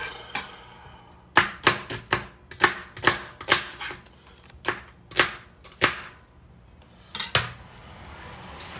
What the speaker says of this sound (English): So I'm just going to give these a quick slice through.